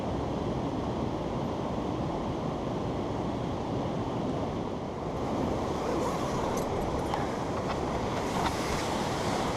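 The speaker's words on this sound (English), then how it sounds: "lulled into a restful slumber by the sound of the river Orchy" The River Orchy in the Scottish Highlands along the West Highland Way, heard at night from a campsite as a steady, dense rushing roar that fills the whole stretch without pause, close and strong, with no voices.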